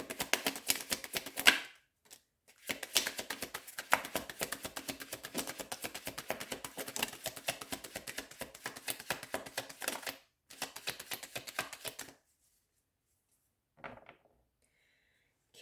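Dense, rapid papery riffling of tarot cards being shuffled, continuous bursts with a couple of brief pauses, close and fairly quiet, ending in near silence with a few soft taps.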